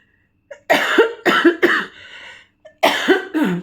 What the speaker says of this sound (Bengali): ভীষণ কাশি